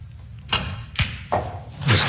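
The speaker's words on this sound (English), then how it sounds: "That's another supremely well-struck red from long range" Snooker cue strike on a red from long range at the UK Championship, a few crisp knocks of cue and balls spaced about half a second apart over a low hall murmur.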